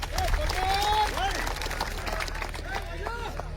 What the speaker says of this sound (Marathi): कराय की टाळ्या मंडळी त्याच्यासाठी.